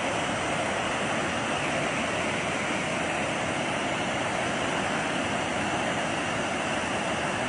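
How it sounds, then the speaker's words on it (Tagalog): Floodwater released during Typhoon Ulysses rushes out with great force, a loud, continuous, even roar of churning water with no pauses. "Kung Kita nyo, ang bilis ng labas ng tubig lang."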